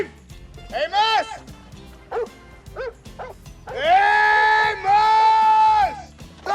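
A large dog barks and howls in a 1989 movie trailer, first in short yelps, then in two long drawn-out howls, loud and close, with someone shouting between the barks.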